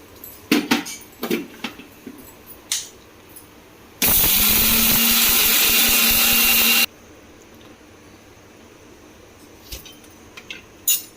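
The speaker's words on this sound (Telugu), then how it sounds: "దీన్ని మిక్సీ పడదాం." A mixer grinder grinding spices for sambar powder, with turmeric added, whirs loudly for about three seconds, a steady dense roar that starts and stops abruptly, with light clatter before and after.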